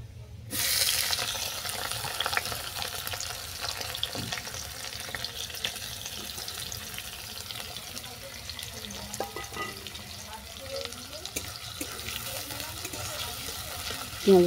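Chopped onions frying in a pan for a soybean and cauliflower-stalk mash, a steady close hiss of sizzling oil running throughout with a few faint clinks and stirring sounds.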